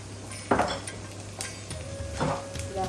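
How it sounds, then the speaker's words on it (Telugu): Turmeric goes into hot tempering oil for a raw plantain fry. A soft sizzle runs under a spoon stirring and scraping the pan, with a few louder clinks. "తాలింపులోనే కొంచెం పసుపు వేస్తున్నాను."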